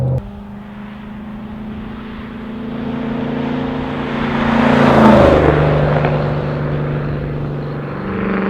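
A 2010 Shelby GT500 Mustang cruising on back roads, its engine a steady low drone heard from inside the cabin that gradually swells and then eases off, with no talk.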